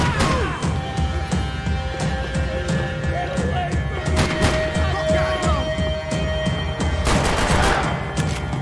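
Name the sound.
gunfire in the video game Max Payne 3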